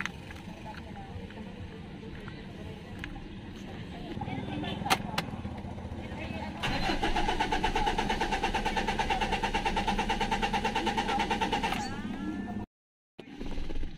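Mitsubishi Strada pickup engine being cranked with a newly cut key after a crank-but-no-start fault, a rough churning effort that catches into a steady running idle, close and moderately loud, briefly cut off near the end.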